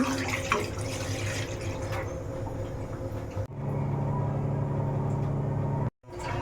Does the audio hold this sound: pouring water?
yes